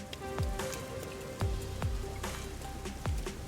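Steady rain in the video game Master Detective Archives: Rain Code, a constant patter with scattered louder drops and a few soft low thuds, no voices.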